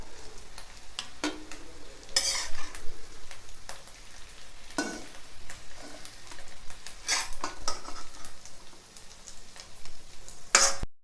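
Egg frying in oil in a home kitchen pan while a utensil scrapes and stirs it, with sharp clinks and scraping bursts standing out over a steady close-up sizzle.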